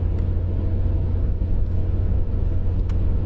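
A car drives along a bumpy road, heard from inside as a steady loud low rumble of engine and road noise with small jolts and rattles.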